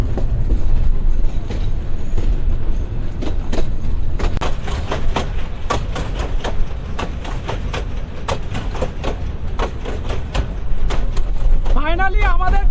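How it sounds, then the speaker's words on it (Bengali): Chapa Express train from Dinajpur running toward Gaibandha, a loud steady rumble with a long run of rhythmic clacks from the wheels over rail joints and a brief squeal near the end, with voices in the carriage. "ট্রেনটা চাপা এক্সপ্রেস দিনাজপুর থেকে গাইবান্ধায় পৌঁছালো দুইটার দিকে"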